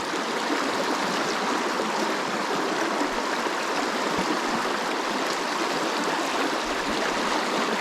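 Turbulent trout stream water rushes and churns steadily nearby, a continuous loud broadband wash with no pauses.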